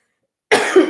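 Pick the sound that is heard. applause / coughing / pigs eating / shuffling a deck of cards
coughing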